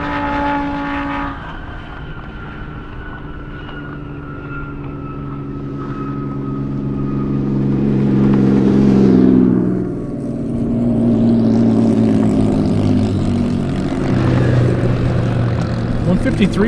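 Drag racing cars, a 1999 Corvette and an Audi R8, race at an airport airstrip with a loud engine roar building toward the middle, then holding steady, heard under an announcer's voice.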